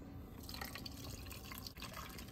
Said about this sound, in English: we're gonna pour that right into the ice cream bowl